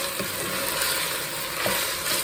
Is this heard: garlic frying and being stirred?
yes